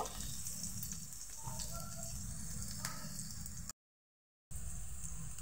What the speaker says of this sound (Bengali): লঙ্কা দিয়েছি একটা, ছোট ছোট করে কুচিয়ে দিলাম। এটাকে একটু ভেজে নেব।